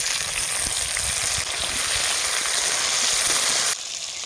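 Chopped onions and tomatoes frying in a pan, a loud, continuous hissing sizzle that fills the whole stretch close up, with no voices.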